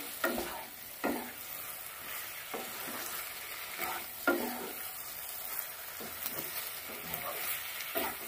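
Potato curry with spices sautéing on medium heat, a low continuous sizzle broken by repeated scraping stirs of a spoon against the pan, fairly quiet and close, with no talk.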